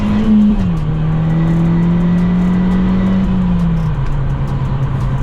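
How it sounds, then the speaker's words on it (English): A Volkswagen Golf GTI launches and accelerates in first gear, its engine a loud, close, sustained drone that holds a fairly steady pitch and dips slightly after a brief opening surge; no speech. "Gentle in first gear, Cal."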